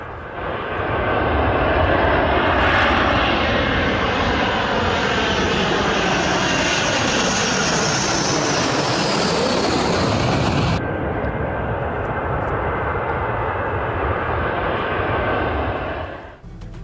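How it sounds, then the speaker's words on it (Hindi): A US Air Force B-1 bomber roars steadily overhead, its loud, broad jet engine noise shifting in pitch as it passes, continuous for the whole stretch with no voices. "ईरान पर कयामत ढाने के लिए अमेरिका के B-1 बॉम्बर भी उड़ चुके हैं"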